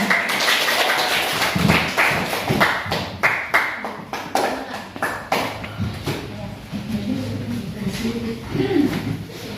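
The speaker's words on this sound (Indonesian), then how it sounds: "Tepuk tangan untuk" Classmates in a school classroom clap for a student group during a teaching practice lesson, a burst of uneven hand claps with a few louder thuds, gradually thinning out while a voice speaks over it.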